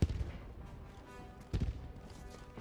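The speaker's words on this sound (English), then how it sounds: "I hear explosions." Explosions and gunfire in the Helldivers video game, two heavy blasts with a crackle of distant shots between them, quiet and muffled.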